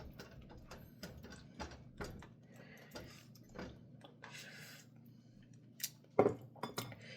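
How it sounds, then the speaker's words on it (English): A spoon stirs sloppy joe meat in a pan, making faint scattered scrapes and clinks against the metal with quiet gaps between them and one sharper knock near the end. "So I'm stirring it around."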